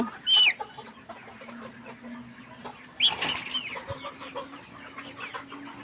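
Sick layer hens with swollen, teary eyes give two sharp clucks a few seconds apart, with a brief flutter of wings and a low steady hum in the background.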